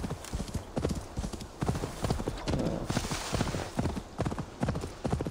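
Hooves of a costly in-game horse clatter in a brisk, regular clip-clop in Assassin's Creed Valhalla, loud and near, with a brief neigh-like swell midway through the steady gait.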